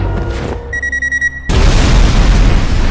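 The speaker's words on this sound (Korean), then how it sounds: "차량이 폭발하고 매트는 비로소 지옥에서 벗어납니다." In a thriller film, a quick run of electronic beeps gives way to a sudden loud blast and a heavy, lingering roar as a car hanging from a bridge railing explodes.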